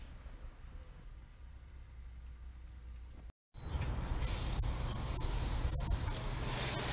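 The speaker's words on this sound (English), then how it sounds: "Go ahead, get it, get the sprinkler, come on." Water hisses from a lawn sprinkler spraying outdoors. A quieter stretch breaks off in a short silence, then a louder, steady broadband spray continues to the end.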